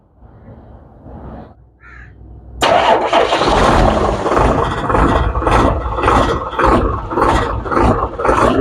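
A freshly overhauled diesel engine cranks briefly and then fires up, settling into a loud, steady, rough running clatter close by.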